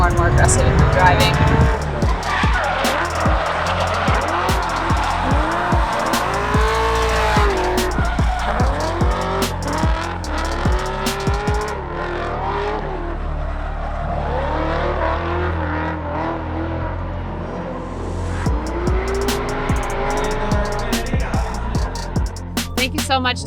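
A car drifting at LS Fest 2019 in Kentucky, its engine roaring loudly and continuously under long, wavering tire squeals as it slides with smoke and low tire pressure.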